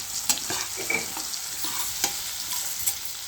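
Beans frying in oil with dried red chillies on a low flame, with a close, continuous sizzle broken by the scrape and clatter of stirring, no voices.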